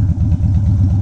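2011 Harley-Davidson Wide Glide V-twin tuned with a Dynojet Power Vision, a deep, loud, lumpy engine rumble with a rapid even pulsing beat, heard up close during a brief stretch of a ride.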